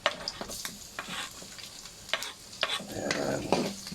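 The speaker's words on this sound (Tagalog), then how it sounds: "Tapos, magigisa na tayo." Garlic sautés in a pan for pinakbet, a close, crackling sizzle with quick spatula scrapes and a denser hiss near the end.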